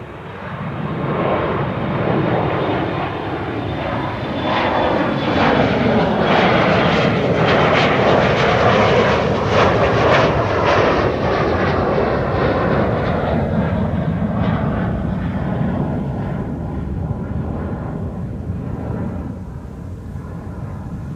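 An Embraer 175 jet airliner on flight 1799 from Amsterdam Schiphol to Düsseldorf roars loud and near, the engine noise swelling to a peak midway and then slowly easing off, with no voices.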